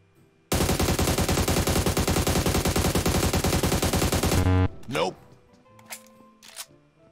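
Rapid automatic gunfire in the PUBG Mobile battle game rattles loudly and continuously for about four seconds, followed by a few scattered sharper in-game effects and quieter clicks.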